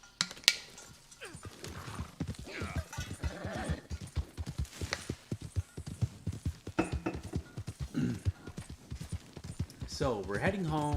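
Horse hooves galloping in Red Dead Redemption, a fast rhythmic clip-clop of many close, punchy hoof strikes, with a brief whinny and some talk near the end.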